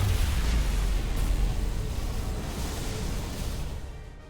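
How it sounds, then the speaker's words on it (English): A dilithium explosion in the Star Trek Resurgence video game: a heavy, sustained roaring rumble that fills the clip at full loudness and slowly fades toward the end, with no talking. "Dilithium explosion."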